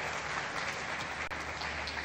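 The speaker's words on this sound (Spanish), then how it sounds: "Guillermo, un aplauso para Guillermo, para que se anime." An audience at a math-magic show applauds a volunteer, a steady dense wash of clapping from a crowd at moderate distance, fairly quiet and continuous.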